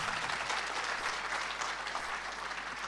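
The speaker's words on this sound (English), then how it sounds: "May we please give them another round of applause." A crowd at a national ICT summit applauds two students. The clapping is steady and continuous, at moderate loudness with an even texture, with no voices over it.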